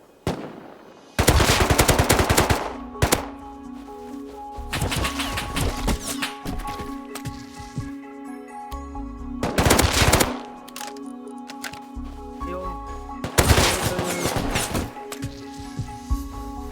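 Bursts of AK rifle fire from a multiplayer survival shooter, loud and close, coming in several sustained volleys separated by short pauses, with quieter distant shots and game ambience between them.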